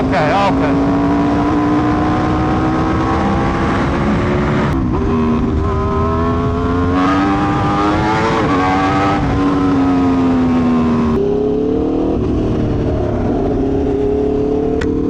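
An Aprilia 1100 Factory superbike engine runs loud and close, its tone rising and falling through several revs across the clip, steady and refined rather than harsh, with a voice talking over it in places.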